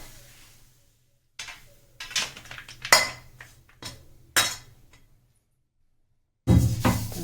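A date-sweet khajur pak mixture is spread into a plate, with scattered clinks and scrapes of a metal spoon against the dish in irregular bursts, separated by short silences.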